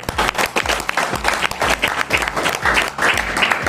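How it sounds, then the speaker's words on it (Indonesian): An audience at an ABCS Group Indonesia business event applauds the founder, giving dense, steady clapping from a crowd that keeps going without a break. "berikan sekali lagi aplaus yang meriah untuk founder ya"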